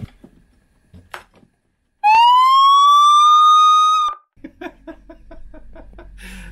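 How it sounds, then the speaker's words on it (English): A loud megaphone's automatic siren wails once for about two seconds with a rising, whooping tone, then cuts off, leaving faint clicks and handling noises. "this must be the automatic siren that automatically doesn't work, or automatically occasionally works when you don't want it to."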